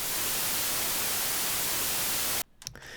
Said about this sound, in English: I'm going to choose white noise. So I'm just going to go into the noise oscillator, go to bright white.